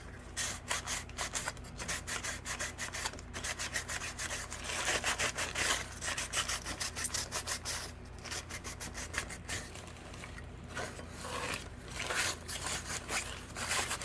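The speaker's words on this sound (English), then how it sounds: "I'm just using some newspaper just to rub that off." Newspaper rubbed over a wax-coated craft spring planter to wipe the wax off: a steady, close, scratchy rubbing that continues throughout with small pulses in strength and no talk.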